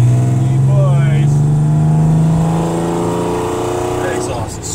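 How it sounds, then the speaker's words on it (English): A loud car exhaust revs up and drones close by, its pitch rising then settling, with a rough, rasping tone. "That exhaust is so bad."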